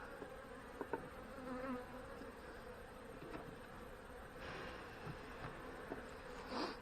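Honey bees humming and buzzing steadily around an opened hive of a colony that has already swarmed, a soft continuous drone with occasional louder passes as individual bees fly close.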